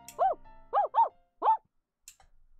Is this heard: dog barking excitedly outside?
yes